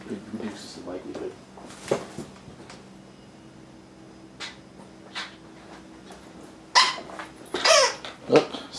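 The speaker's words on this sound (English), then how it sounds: "Oh, stepped on a dog toy." A squeaky dog toy is stepped on indoors during pinball machine repair work, giving a few sharp, high squeaks near the end, with speech and workshop noise throughout.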